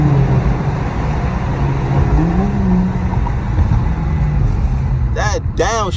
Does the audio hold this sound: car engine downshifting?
yes